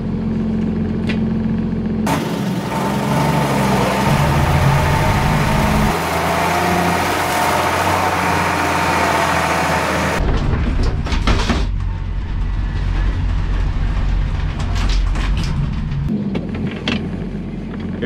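A Unimog truck's engine driving off-road up an incline, a loud sustained low rumble and roar that shifts in tone midway as the load changes, close and continuous with no talking.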